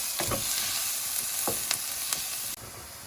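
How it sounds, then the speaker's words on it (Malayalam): Prawn biryani masala sautés in a pan with a steady close sizzle, broken by a few quick scraping stirs before the sound drops slightly at the end. "എന്നിട്ട് നമുക്ക് ഇതെല്ലാം ഒന്ന് നല്ലോണം ഇളക്കി മിക്സ് ചെയ്ത് വഴറ്റിയെടുക്കാം"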